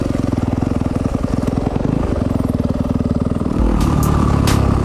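A 2020 Yamaha YZ250FX dirt bike ridden close by on a short trail near home, its engine note loud and steady with a rapid pulsing beat that rises in pitch toward the end.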